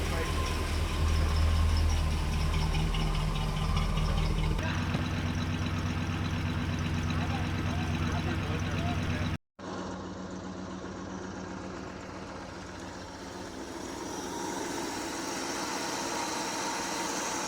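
A 1985 Chevrolet K30 CUCV truck engine idles steadily up close with a low rumbling drone, briefly cutting out midway before resuming at a similar level.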